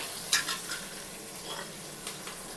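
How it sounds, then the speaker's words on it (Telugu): Cut green chillies sizzle and spit in hot oil while being stirred for a chicken donne biryani, with sharp crackles and pops over a steady frying hiss, close and without speech. "మళ్ళీ ఆయిల్ కొంచెం హీట్ ఎక్కిన తర్వాత కట్ చేసి పెట్టుకున్న గ్రీన్ చిల్లీ"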